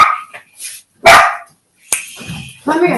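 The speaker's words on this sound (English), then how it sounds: "my doorbell rang and my dogs went crazy" Dogs bark in a home right after the doorbell rings: several sharp, loud, close barks in bursts with short gaps, plus a whimpering yip, and no speech.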